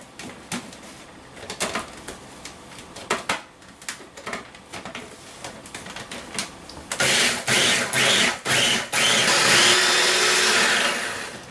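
Blender pulsing Parmesan cheese with salt and black pepper, a few short whirring bursts followed by a louder sustained run, with no talking.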